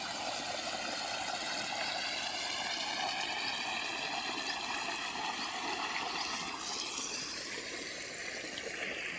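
Water runs steadily through an irrigation channel on a farm beside a field of brinjal plants. The flow is a continuous, fairly close rush and trickle that holds even throughout, with no talk.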